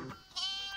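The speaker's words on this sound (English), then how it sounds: "I try to neuter these sheep" A sheep bleats inside the VRChat virtual world, one short wavering bleat that starts faint and swells into a louder, bright, nasal cry that holds steady to the end.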